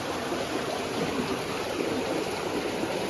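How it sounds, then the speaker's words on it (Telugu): Water gushes out of rock crevices into a stream, a steady, close, unbroken rushing wash with no pauses or voices. "ఈ బండ కొరికల నుండి వచ్చే నీళ్ళు ఇంత జలంగా ఇంత దారుణంగా వస్తాయన్నమాట."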